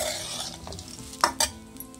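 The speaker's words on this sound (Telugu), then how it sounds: "జీడిపప్పు బాదం నూనెలో వేపుతానండి" Cashews and almonds frying in oil over medium heat: a close, continuous sizzle, stirred with two sharp scraping clinks of a utensil near the end.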